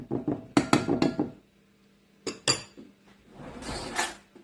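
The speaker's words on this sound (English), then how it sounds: "use a teaspoon to place it inside the ice tray" Teaspoon scooping thick keto coconut paste into an ice tray, giving a few light metallic clinks and taps in quick clusters, then scraping and a softer rustle at close range.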